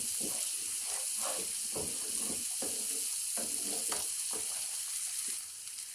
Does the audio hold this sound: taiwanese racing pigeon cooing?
no